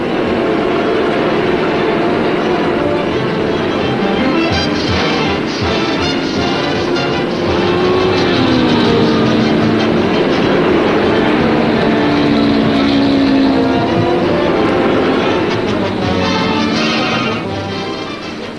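Stock cars from 1951 race on a track in a 250-mile event, their loud engines roaring continuously with rising and falling pitch as they pass, a dense mechanical din throughout.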